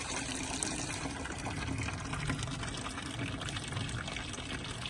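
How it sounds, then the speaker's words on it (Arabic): Water poured from a container onto a potted houseplant, a steady continuous splashing and trickling that runs unbroken and fairly close throughout. "هي دابا نخوي عليها الماء"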